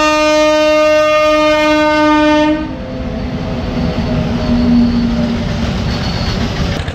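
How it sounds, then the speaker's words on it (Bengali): The Shatabdi Express sounds a long, loud horn blast as it passes Begunkodar station in Purulia. The horn cuts off after a few seconds, leaving a steady rolling rumble of the carriages going by. "দেখতে পাচ্ছ শতাব্দী এক্সপ্রেস হচ্ছে এটা, পুরো ট্রেন সময় স্টেশন দেখতে পেলাম আজকে আমরা।"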